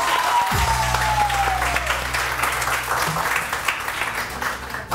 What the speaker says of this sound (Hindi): मेरे बैंड के लिए भी बहुत सारी तालियां बजाइए